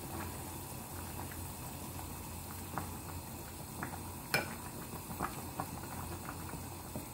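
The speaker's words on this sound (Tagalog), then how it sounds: "Hayaan natin dyan kumulo hanggang sa makuha natin ang saktong lasa ng ating salmon." Salmon miso soup boiling in a pot, heard as a faint, steady bubbling hiss with a few soft clicks and taps.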